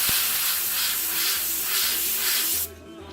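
An airbrush spraying paint onto a cotton crop-top t-shirt through a stencil, a close, steady airy hiss pulsing in short bursts before cutting off abruptly near the end.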